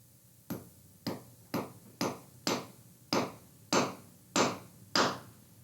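Nine evenly spaced hammer blows drive a nail into a room's floor, each a sharp, close knock with a short decay, growing slightly louder toward the end, with no speech.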